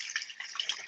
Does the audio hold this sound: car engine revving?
no